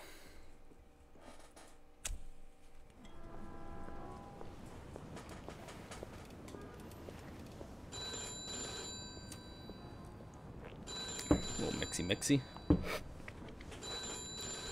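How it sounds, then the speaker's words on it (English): A telephone rings in a scene from the video game Mafia 2, repeated bursts of ringing partway through, with game ambience and someone talking over it. "Your phone ringing."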